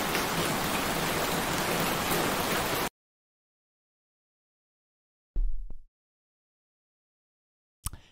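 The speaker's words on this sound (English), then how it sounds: "The rain." Steady heavy rain hisses evenly in an anime scene for about three seconds, then cuts to silence, followed by brief short bursts of noise.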